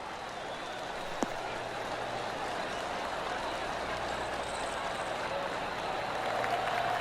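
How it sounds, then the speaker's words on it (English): Light golf clap from a PGA Tour 2K23 gallery crowd, a steady wash of soft applause running throughout, with one sharp click early on and an announcer talking over the top. "Oh, golf clap."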